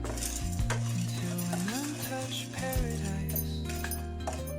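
Peanuts and chana dal dry roasting in a pan for palli karam podi, stirred with a utensil: scraping and rattling of dry pieces against metal, close and continuous, with a faint sizzle-like hiss beneath.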